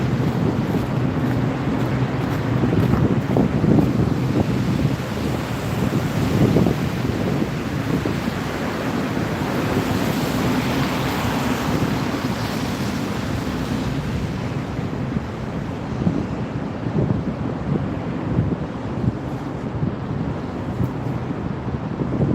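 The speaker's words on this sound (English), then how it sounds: "little windy out here, lots of traffic noise" Strong wind buffets the microphone in a continuous low roar, with gusts rising and falling over a steady outdoor rumble of traffic.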